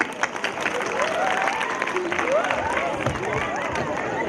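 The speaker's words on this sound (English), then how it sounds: "A great round of applause for the kids," An audience at a school annual day celebration claps and murmurs, a moderate crowd applause with cheering-like voices and speech mixed in across the short stretch.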